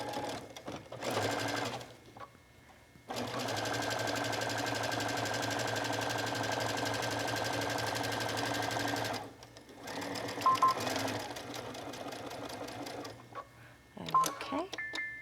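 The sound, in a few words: sewing machine stitching a quarter inch seam on a bag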